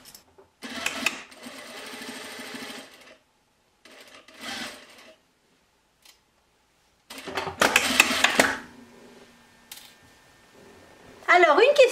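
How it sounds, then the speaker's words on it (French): An overlock serger stitching a seam runs in several bursts, a fast mechanical whirring that starts and stops between quiet gaps, with someone talking between runs. "avec la surjeteuse, je vais coudre à 1 cm"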